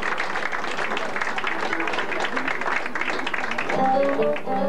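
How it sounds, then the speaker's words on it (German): Audience clapping for a trombonist at a jazz session in a club in Weinheim, a dense patter of applause that gives way to musical tones near the end. "Beifall für den Posaunisten."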